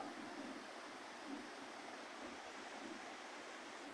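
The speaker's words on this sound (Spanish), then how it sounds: "Bastante lleno el río." Rushing water roars steadily and broadband, the flooded Ostúa River surging without pause, no voices present.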